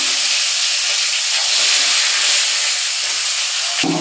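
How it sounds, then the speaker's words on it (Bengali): Fish frying in hot oil in a pan, a loud, continuous, close hiss that holds steady for the whole stretch, with a brief knock near the end and no talking. "তেল গরম হয়ে গেছে গিয়া, মাছটা আগে ভাজিয়া নেই।"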